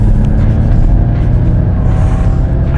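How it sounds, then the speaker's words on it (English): A 2021 Ford Mustang Mach-E plays its artificial propulsion sound while accelerating. It is a loud, steady low synthetic hum and drone heard from inside the car, with no talking. "I just love this propulsion sound"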